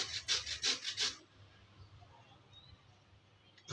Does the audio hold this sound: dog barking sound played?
no